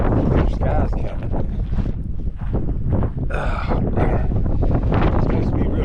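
Strong wind buffeting the microphone on a Gulf coast beach, loud gusty rumbling that rises and falls throughout, with a voice speaking under the roar.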